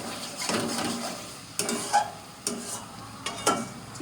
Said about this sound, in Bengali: চিংড়ি টিংড়ি সব ভাজা হয়ে গেছে, মশলা কষাচ্ছি।